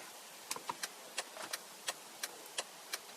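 A Hyundai Tuscani hazard relay ticks in a steady, evenly spaced rhythm of about eight sharp clicks, close and clear inside the quiet cabin, with no talk over it.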